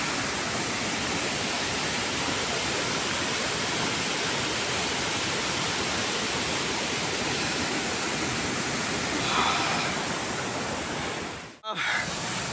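A steady, loud roar of rushing water from the Savatsada waterfall in the Konkan fills the whole stretch, dense and unbroken, ending in a brief dropout near the close.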